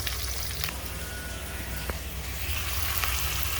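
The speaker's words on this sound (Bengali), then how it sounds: "পেঁয়াজ আর রসুন ভালো করে পেঁয়াজ রসুন ভাজি করে নেব" Onion and garlic sizzle steadily in hot oil in a pan while cooking a taro-stolon and small-shrimp stir-fry, a continuous close crackling hiss with occasional sharper pops and faint utensil taps.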